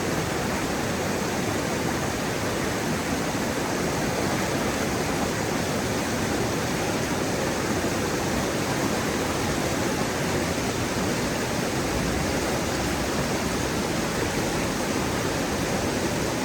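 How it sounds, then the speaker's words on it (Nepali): A large, fast-flowing mountain river on a snow-trout fishing trip rushes in a steady, unbroken broadband roar, even in level and close by for the whole stretch, with no voices. "खोला डेन्जर ठुलो छ"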